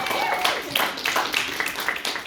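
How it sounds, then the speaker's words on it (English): An audience at a university panel on international solidarity claps for the speakers, a steady patter of many hands over about two seconds with voices mixed in. "Give another round of applause for the speakers."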